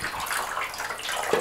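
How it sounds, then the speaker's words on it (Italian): About two litres of water pour into an AeroGarden hydroponic planter, making a steady, soft rushing splash throughout the short stretch with no talking. "Sostanzialmente noi dobbiamo mettere l'acqua e sono circa 2 litri di acqua."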